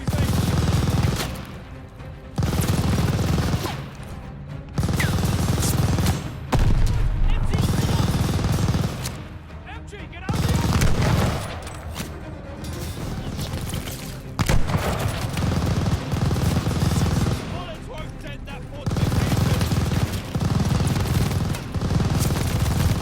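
Sustained machine gun fire from an enemy tower emplacement in the Call of Duty Vanguard World War II shooter, dense rattling bursts broken by short pauses and distant booms, loud throughout with a voice shouting over it.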